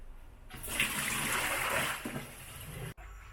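Hot water poured out in a kitchen while red-braised pork is being cooked, a steady close gushing splash lasting about two and a half seconds before it cuts off abruptly, with no talking.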